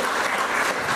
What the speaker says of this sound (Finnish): anna varmuudella itsellesi vielä aplodit